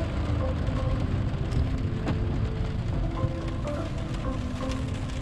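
Heavy rain drums steadily on a Mercedes E350 AMG, heard from inside the car as a dense, constant wash with no talking.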